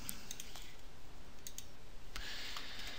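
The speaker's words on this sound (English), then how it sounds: "When I click on OK" A computer mouse clicking the OK button, a few sharp, faint clicks over a quiet room hum.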